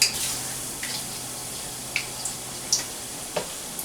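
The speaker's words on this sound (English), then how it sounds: "just drop it right into that oil. Listen to that sizzle." Soft, steady sizzle of chicken frying in hot oil, with a few faint pops and crackles scattered through it, close by.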